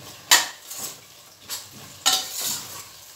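A spoon strikes and scrapes a metal pot as yogurt and garam masala paste are stirred into vegetable biryani, making a few quick clanks and short scraping strokes with quiet gaps between them.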